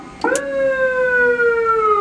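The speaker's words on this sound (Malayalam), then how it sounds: "വളരെ സീറ്റിൻ്റെ അടിയിലാണ് സൈറൻ" An ambulance siren sounds close and loud, a steady high wailing tone that starts abruptly after a short click and holds for the rest of the stretch.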